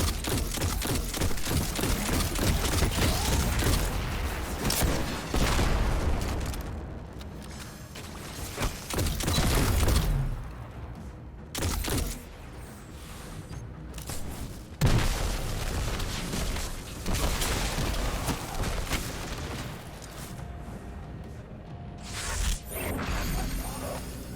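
Gunfire in Destiny 2 during a Lost Sector fight, dense and loud, with repeated booming shots and mechanical clatter over continuous game noise for about twenty-four seconds, with no talk.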